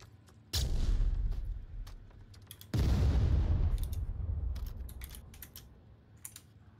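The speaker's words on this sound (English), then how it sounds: "we got shots coming in over here" Gunfire in the VR shooter Onward: two sharp, heavy shots crack out with echoing decay, followed by a scatter of quieter, more distant single pops and clicks.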